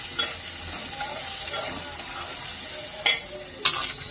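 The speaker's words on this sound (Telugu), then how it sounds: "ఆనియన్స్ కూడా వేసేస్తున్నాను. ఇవన్నీ కలిసి వేగాలండి." Onions and green chilies sizzle steadily in a hot pan for a curry, with scattered stirring scrapes and a couple of sharper utensil knocks near the end; no one speaks.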